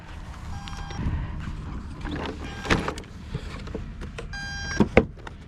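An ARRMA 1/5 EXB Kraton 12s RC car beeps in failsafe mode after a rough landing, several short high electronic tones recurring over a low background rumble, with no talk.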